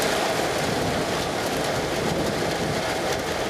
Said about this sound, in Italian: Vento forte e pioggia, in alcuni casi mista grandine